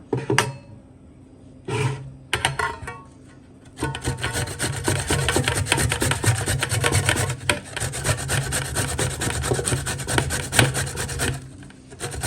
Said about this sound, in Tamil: இந்த மாதிரி பெரிய ஹோல் இருக்கிறதுல நல்லா துருவிக்கிங்க.